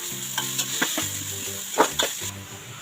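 Ginger garlic paste sautéing with onions in a hot pan, a soft steady sizzle broken by repeated scraping stirs and light clinks of a utensil against the metal, close and fairly quiet with no talk.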